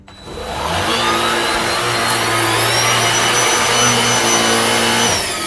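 A Black+Decker cordless vacuum cleaner on its lowest setting hums steadily at a low, even pitch, running close for several seconds with a faint whine above the motor drone.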